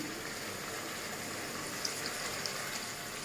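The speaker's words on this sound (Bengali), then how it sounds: "এবার আমি জল দিয়ে দিচ্ছি।" Water pours in a steady, unbroken gush into a pan of cauliflower and prawn curry, close and fairly loud throughout, with no voices.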